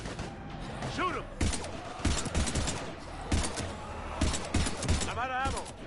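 Gunfire against husks in Mass Effect 3, rapid volleys of shots with sharp repeated cracks amid combat clatter, fairly faint and mixed under shouting voices.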